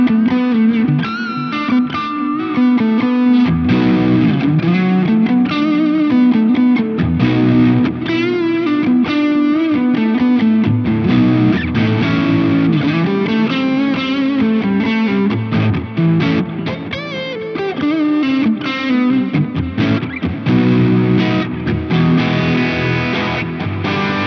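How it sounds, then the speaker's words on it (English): Electric guitar played through a Laney Lionheart Foundry Super 60 112 combo amp with an overdrive pedal in front and a space echo in the effects loop, loud, continuous, distorted and saturated with echo trails. "I've got the nobles going into the front of the amp, and then I've got this space echo in the effects loop."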